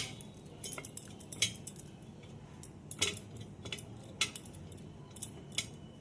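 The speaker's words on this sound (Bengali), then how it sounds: "দেখো এইভাবে তেল ব্রাশ করে নিচ্ছি আমি।" Metal idli moulds are oiled with a brush for semolina idli, giving quiet, sparse metallic clinks and light taps scattered over a soft background.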